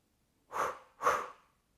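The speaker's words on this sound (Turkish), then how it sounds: "Nefes aldım." Two quick, sharp inhalations through the nose follow one another, each a short airy rush during a pregnancy breathing exercise, close and clear against silence.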